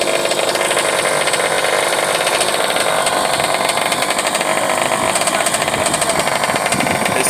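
A motocross dirt bike engine drones loud and constant with a rapid, buzzing two-stroke pulse at a practice track, without pauses through the whole stretch.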